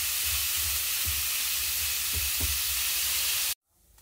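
Ground meat browning for bolognese sauce in a Panasonic GM-600 multi-cooker at 200 degrees gives a steady, loud hiss of sizzling with a few soft pops, then cuts off abruptly near the end.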